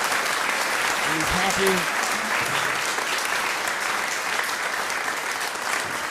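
Steady applause from a studio audience greets a comedian taking the stage, broad and continuous for the whole stretch, with a brief spoken remark heard over the clapping early on.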